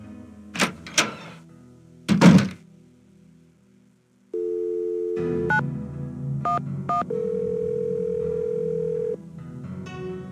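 Telephone dialing on a ticket booth phone in a Nancy Drew video game: a few knocks and clunks, then a dial tone followed by a string of short beeping key tones and a sustained ringing tone.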